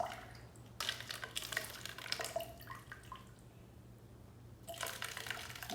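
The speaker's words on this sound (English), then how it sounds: "As I pour water in here" Water poured onto soil in an erosion demonstration, with irregular trickling and splashing bursts that start and stop, moderately quiet over a steady low hum.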